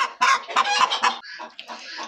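A hen clucks after laying an egg in a farmyard nest, a close, loud run of rapid cackling bursts with brief pauses.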